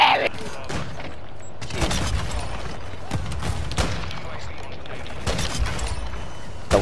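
Rapid gunfire crackles and booms through a Call of Duty: Modern Warfare 2 multiplayer match, loud and nearly continuous with repeated sharp bursts, while a player talks excitedly over the shooting.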